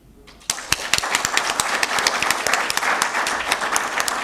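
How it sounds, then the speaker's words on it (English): A workshop audience in a hall breaks into loud clapping after a brief quiet start, with individual sharp claps standing out over a dense, steady wash of applause. "Lend your hands and clap loudly."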